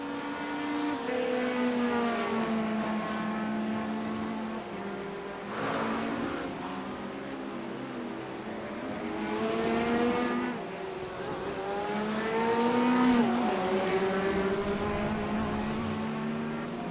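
Race car engines in iRacing at Daytona International Speedway during a 24-hour endurance event, a steady loud roar with pitch rising and falling through gear shifts and passing cars, heard alone without talk.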